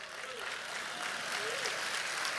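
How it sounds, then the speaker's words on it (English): A church audience breaks into applause during a pastor's sermon, a steady, fairly loud wash of clapping that holds throughout with no talking over it. "I really did that just for applause."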